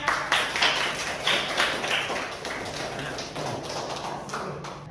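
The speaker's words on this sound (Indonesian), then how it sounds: "aplaus untuk saudara." Audience applause at a seminar session, a short burst of clapping from a small group of people in a room, the claps uneven and fading over a few seconds.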